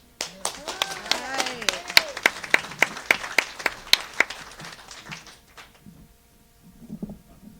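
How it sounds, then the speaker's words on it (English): Applause for musician Cory Seznec at a live show: a handful of sharp, distinct claps ring out at a steady rhythm amid scattered murmuring, fading out before a few soft sounds at the end. "a round of applause for Cory Seznec"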